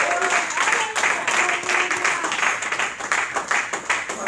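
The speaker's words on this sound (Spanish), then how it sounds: "Oh, dar ese aplauso al Señor." A church congregation claps for the Lord during a Spanish-language service, with steady, dense applause that pulses slightly throughout, mixed with crowd noise and voices.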